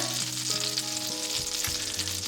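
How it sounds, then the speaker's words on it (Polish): Butter sizzling steadily in a hot frying pan, a dense even crackle held at a constant level throughout, with faint tonal background hum underneath and no voices. "Na rozgrzaną patelnię wrzucam masło."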